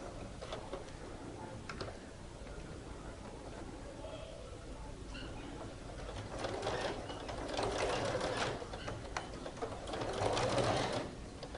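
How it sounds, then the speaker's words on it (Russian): An overlock sewing machine overcasting a fabric edge, running in a continuous fast mechanical whir nearby that rises and intensifies in bursts toward the end. "Начинаем обметывать."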